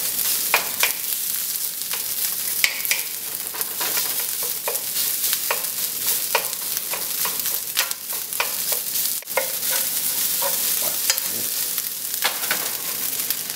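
Rice fries and sizzles in a hot pan with a continuous crackle, broken by frequent scraping strokes and taps of a utensil as it is stirred and separated, close and steady with no talking.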